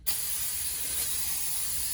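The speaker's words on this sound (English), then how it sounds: "a liberal amount of brake clean, spray off the rotor and let that dry" Brake cleaner sprayed from an aerosol can onto a brake rotor during an S10 drop spindle install: one continuous, loud, close hiss lasting about two seconds with no pauses.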